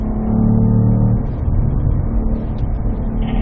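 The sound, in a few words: Cadillac V-Performance car accelerating on a race track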